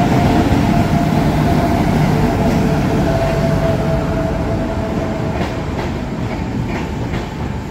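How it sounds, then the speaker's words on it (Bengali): Trains run past the platform at Bankura railway station in a loud, steady, close rumble with rail clatter that fades slightly toward the end; no voices. "এই বাঁকুড়া রেল স্টেশনের ফাঁকা প্ল্যাটফর্মে বসে আসা যাওয়া বিভিন্ন রুটে ট্রেন দেখতে দেখতে"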